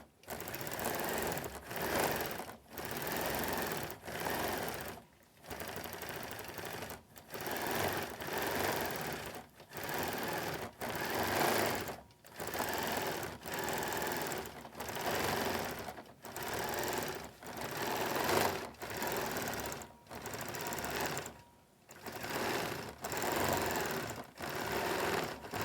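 Close and loud, a sewing machine stitches across a quilt using Woodlands thread, running in repeated bursts of a second or two separated by brief pauses.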